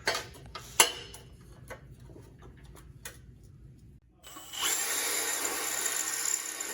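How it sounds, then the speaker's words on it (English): Several sharp taps and clicks, a brief pause, then a power drill whirs steadily and loudly as it bores through, in an abrasive saw setup. "I'm just gonna drill right through it"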